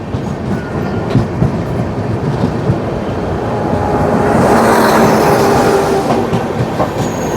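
Indian express train, the Odisha Sampark Kranti, running at speed with steady rumbling clatter, as another train, likely the Lichchhavi Express, passes alongside and swells louder midway through.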